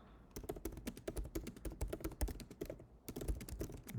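Rapid keystrokes on a computer keyboard while notes are typed up, close and steady, with a brief lull just before the three-second mark before the clattering typing resumes.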